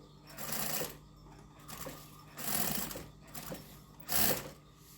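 A sewing machine runs in several short, pulsing bursts of rapid stitching, each swelling and easing off, fairly quiet and close, with no talking.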